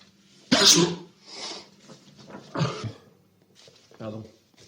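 A loud, sharp human sneeze bursts out close by, followed by a few softer throaty coughing or sneezing sounds spaced over the next few seconds.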